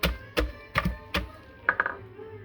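Shredded cabbage being pounded for sauerkraut: four heavy, evenly spaced thumps close by, then a quicker cluster of lighter knocks, with no talking.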